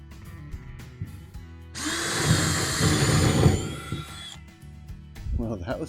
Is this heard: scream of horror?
no